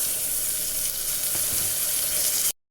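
Bitter gourd sizzles as it fries in oil with cooked-down tomato: a steady, dense crackle and hiss that continues without a break until it cuts off abruptly, with no voices.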